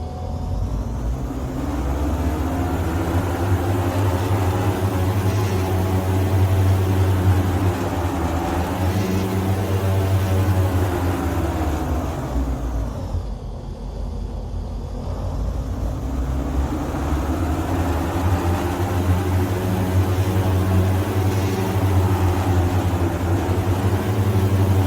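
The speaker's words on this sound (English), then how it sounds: "we'll run through 2 engine run-ups" An aircraft engine run-up in a flight simulator game, a loud, steady droning engine roar that holds for a long stretch, dips briefly midway, then builds back to full power, with no talking.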